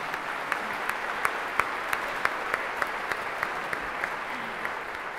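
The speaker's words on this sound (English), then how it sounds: "give them a big round of applause for their wonderful performance once again" Audience at a singing competition finals concert clapping for the singers, steady dense applause from a large hall with a few sharper individual claps standing out, sustained and even throughout.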